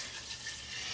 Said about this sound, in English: Pour in our veggie stock.